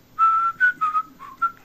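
A person whistles the Dixon of Dock Green signature tune: five clear, close, loud notes, the first held longest, then shorter phrases with small gaps, alone without talk.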